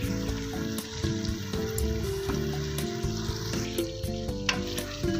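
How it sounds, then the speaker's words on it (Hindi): Fish karahi sizzles and fries in a pan while being stirred, with steady frying hiss and occasional clanks of a utensil against the pan, close and fairly loud, with no talking. "साथ साथ मिक्स भी कर रहा हूँ"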